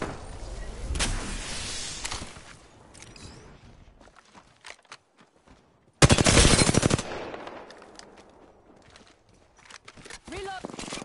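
Rapid automatic gunfire in an Apex Legends match, loud and close, in bursts with a heavy volley midway, mixed with footsteps, reload clatter and game effects.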